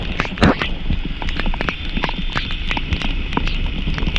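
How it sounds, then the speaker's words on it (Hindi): Torrential rain on a street, continuous close hiss of falling water with scattered sharp drips and splashes, one louder splat near the start, no talking. "बहुत तेज बारिश है, बहुत तेज बारिश है,"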